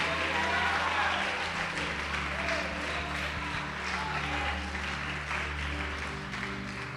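Sustained applause from a church congregation fills the space, steady and fairly loud, with a low droning hum and some muffled voices underneath.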